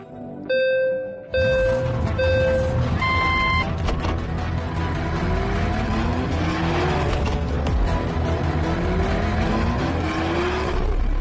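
Race cars and a taxi roar along in a street race, with loud engines revving and tyres squealing continuously after a short burst of musical tones at the start.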